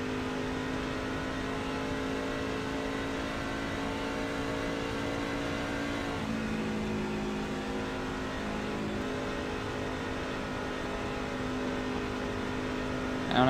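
Race truck engine at Las Vegas Motor Speedway drones steadily and loudly at a constant pitch, a sustained high-rpm note holding throughout with a slight shift midway.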